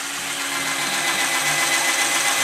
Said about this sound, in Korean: 12V의 1A짜리 전동 드릴을 가지고서 제가 한번 뚫어 보겠습니다